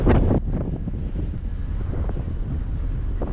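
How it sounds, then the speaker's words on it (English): Strong wind buffets the microphone on a ferry crossing to Newfoundland in May, a constant, roaring rush, with a heavier gust at the start and no voices. "It's windy and cool."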